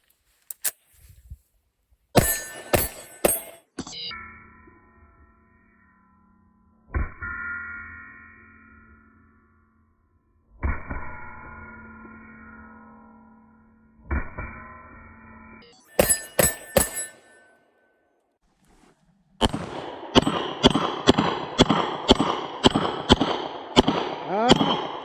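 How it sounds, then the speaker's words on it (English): Sharp shots from a CZ Tactical Sport 2 pistol come in quick bursts, separated by quiet gaps and ringing tones, ending in a rapid string of evenly spaced cracks. "The gun wants to be shot fast"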